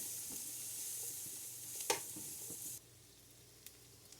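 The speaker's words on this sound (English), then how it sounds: "Keep an eye on your vegetables and stir them occasionally." Vegetables sauté in a pot for a pot roast, a soft steady sizzle with a sharp scrape of a stir near the middle; the sizzle drops away abruptly near the end, leaving a quiet background with one small tap.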